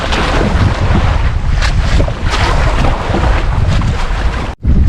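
Rough sea water churning and splashing against a boat at sea during a typhoon, with heavy wind buffeting the microphone throughout, loud and continuous.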